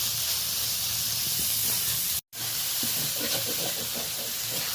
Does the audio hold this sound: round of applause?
no